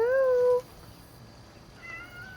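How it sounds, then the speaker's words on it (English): Cat on a farm giving one clear meow up close, then a fainter second meow after a short pause against quiet outdoor background. "I think there's just a bunch of cats that live here and run the farm."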